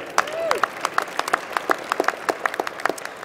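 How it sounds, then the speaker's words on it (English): An audience at a winter engineering commencement ceremony applauds with a steady spatter of many separate claps, fairly close and lively, while a voice briefly rises at the start. "let's have a round of applause for Baton Rouge, Louisiana"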